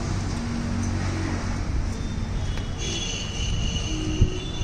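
A train rumbles past at Bareilly railway junction, a steady loud broadband roar of wheels on track with a thin high squeal running above it and one brief clank near the end, no talking.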